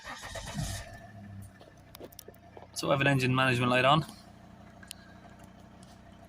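A Volvo XC90 D5 all-wheel-drive diesel with its engine management light on and particle-trap and airflow faults cranks for about a second, then drops to a faint, quiet idle, with someone talking nearby before and after.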